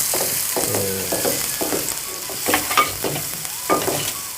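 Onions frying with green chillies and bay leaf in a pan for a tomato kurma, a continuous sizzle with repeated scraping stirs of a spatula, close and fairly loud, no talking.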